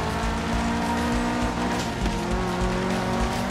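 Subaru WRX STI engine roaring steadily in Forza Horizon 4, revving hard with tire squeal and skidding mixed in, loud and close throughout with no talk.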